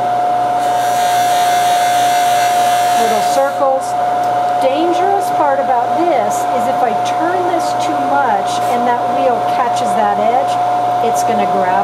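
A polishing wheel hums steadily at high speed while a piece is buffed against it, with a constant whining tone and scraping, rising and falling contact noise; a person talks over it.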